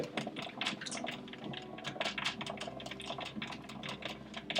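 An antique cylinder phonograph is cranked by hand, giving a steady run of close, rapid mechanical clicks and ratcheting ticks over several seconds, with no talking.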